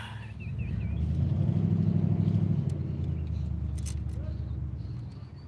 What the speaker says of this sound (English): I can't stand the noise of a pickup truck